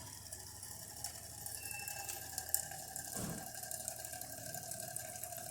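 A DeLonghi Magnifica S coffee machine dispensing hot water, a faint, steady hiss and trickle with soft mechanical ticking and a brief low gurgle midway; no talking.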